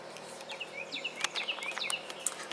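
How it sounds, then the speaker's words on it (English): Several birds chirp and whistle outdoors in quick, overlapping short calls, moderately close, over a soft breezy background. "Do y'all hear the birds chirping?"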